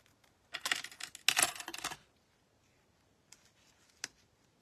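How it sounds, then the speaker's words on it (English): Scissors snip off flowers in two quick bursts of crisp cutting clicks close by. A couple of faint isolated snips follow after a pause. "some of these other flowers that I'm cutting off"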